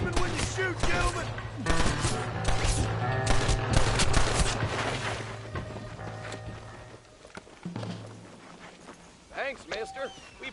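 Rapid gunfire crackles in Red Dead Redemption, bursts of shots layered over a steady droning tone and sporadic horse hoof clatter, with a voice speaking over the action before the shooting thins out.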